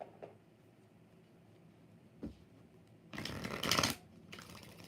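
Quiet riffling of tarot cards being shuffled, a soft burst near the end, over faint room noise.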